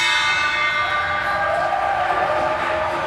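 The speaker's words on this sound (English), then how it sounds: "They're ringing the bell behind us." A bell ringing in a room with a high ceiling, heard as a sustained metallic ring with long overtones that stays steady and fairly loud over the whole stretch, with no one talking.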